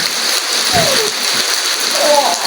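Heavy rain pours in a dense, steady hiss, with a couple of brief voice-like sounds rising faintly through it.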